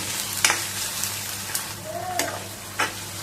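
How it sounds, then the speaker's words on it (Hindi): Masala of onions, bitter gourd peels and grated raw mango fries in a pan, a soft continuous sizzle broken by a few spoon scrapes and stirring knocks, close and moderately quiet. "सभी चीजों को मिलाकर अब इस मसाले को हम अच्छे तरीके से भुनेंगे"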